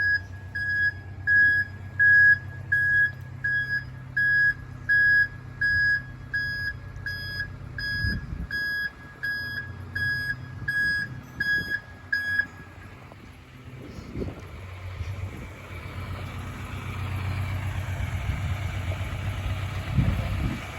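1998 Chevrolet Silverado C1500 pickup backing up, its steady reversing beeps pulsing over an idling engine for about twelve seconds, then a louder engine rumble with some thuds once the beeping stops.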